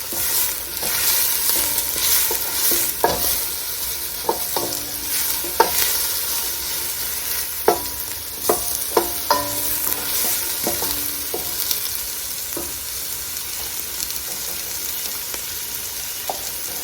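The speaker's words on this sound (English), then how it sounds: "I put in 2 small onions that I sliced up, and we're just going to cook them till they're soft" Two small sliced onions fry in olive oil in a pan with a constant bright sizzle. A spoon scrapes and taps through them now and then, close and fairly loud, with no talk.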